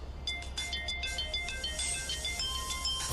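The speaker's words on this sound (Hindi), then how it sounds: "मेरा फोन बज रहा है" A mobile phone rings in a Hindi TV drama scene, a repeating electronic ringtone with bright, steady tones over a constant low background hum, moderately loud and continuous with no talk.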